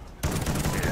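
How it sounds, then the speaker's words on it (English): Rapid gunfire from a first-person shooter video game, firing from the hip, a sustained loud burst of shots starting abruptly after a brief quiet moment and continuing without pause. "It's kind of fun shooting off the hip like this"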